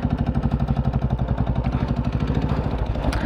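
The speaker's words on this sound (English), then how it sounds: "हाँ, the free flow exhaust sound sweet." Royal Enfield Bullet Standard 350 single-cylinder motorcycle with a free flow exhaust, a loud, close, rapid thumping beat that pulses evenly and then quickens slightly as it revs, with no talking.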